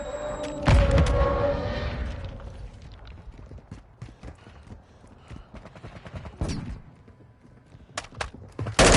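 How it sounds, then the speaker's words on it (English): A Semtex grenade going off in Call of Duty MW2 multiplayer, one loud booming blast near the start, then scattered gunfire cracks and thumps coming in bursts for the rest of the stretch. "Semtex out!"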